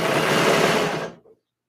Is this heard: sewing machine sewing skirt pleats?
yes